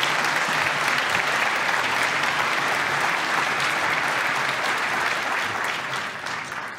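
A conference audience bursts into sustained applause, a dense wash of many hands clapping close by that holds steady for several seconds before fading toward the end, with no talking.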